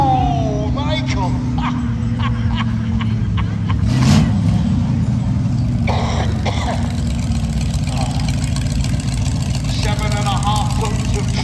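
A 7.5-ton monster truck with leaf-sprung suspension at a monster truck show roars steadily, then lands with a loud broadband crash onto cars around the four-second mark and a second thud soon after, with voices murmuring under the constant engine noise.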